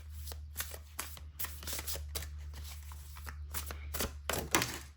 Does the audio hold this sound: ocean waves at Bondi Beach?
no